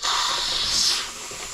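Steam vents from a pressure cooker in a loud, close, sharp hiss that holds steady for about a second, then eases off to a softer rush.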